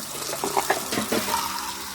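Water from a tap pours steadily nearby as dog food is washed, with a few soft splashes and gurgles, and no talking.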